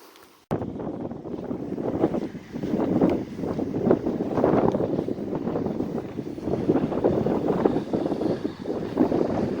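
Strong coastal wind near the Sandy Bay lighthouse roars steadily and loudly across the microphone in buffeting gusts, starting abruptly after a brief quiet moment and continuing without any speech.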